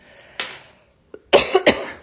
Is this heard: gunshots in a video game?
no